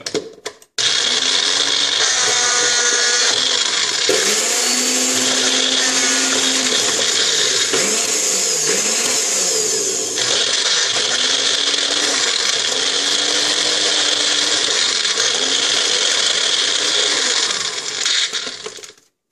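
Magic Bullet and NutriBullet blenders running with similar blades, a loud whirring motor with pitch rising and falling as contents are blended and chopped, several bursts over nearly twenty seconds, with a rattling, crunching texture.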